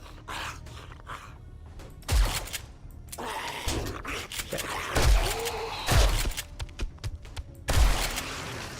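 Gunshots in the video game 7 Days To Die, heavy booming reports about every second or two mixed with mechanical clatter and scattered impacts, fairly loud with no talking.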